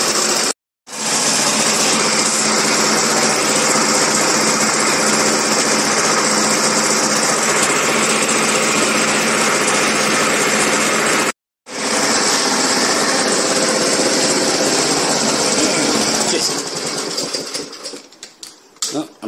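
A Victa Vantage 18-inch lawn mower engine runs just above idle, a loud, steady buzzing drone that cuts out twice briefly and fades unevenly toward the end.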